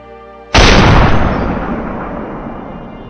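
A single loud gunshot fired at a wild boar at long range in open swampy country, a sharp sudden blast followed by a long rumbling echo that slowly fades.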